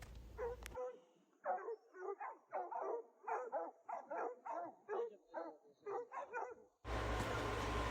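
Hunting hounds used for hog dogging bark in a rapid series of loud, echoing bays, about a dozen voiced calls in quick succession, set between two brief bursts of louder noise at the start and end.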